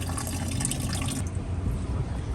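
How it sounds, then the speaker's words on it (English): Oil and coolant drain from a car engine in a steady, continuous splashing trickle of liquid into a catch container, close and unbroken with no talking. "I'm draining the oil too while the coolant is still draining because it's still coming out."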